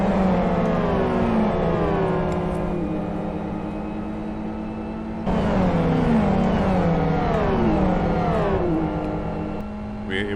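Racing car engine in the Live for Speed driving simulator revving hard on throttle, loud and close, with pitch sweeping up through gears in two long rising runs and brief drops between shifts.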